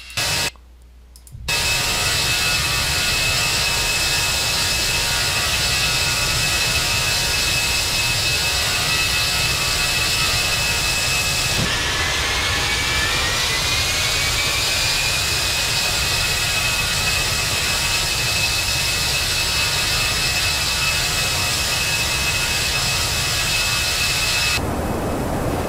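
Airbus A319 jet engines in a Lufthansa airliner climbing after departure in a flight simulator at night, a steady loud broadband roar with a high whine that briefly bends upward midway, continuous and without talk.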